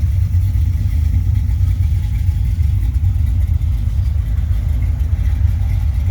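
A 1975 Corvette C3 coupe engine idles through Flowmaster mufflers, giving a loud, steady, deep exhaust rumble close by that never changes pitch.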